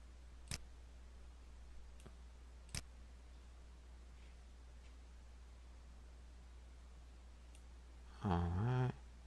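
A computer mouse clicks while dragging points in Photoshop's puppet warp: a few sharp, isolated clicks spaced seconds apart over quiet hiss, followed by a brief burst of voice at the end.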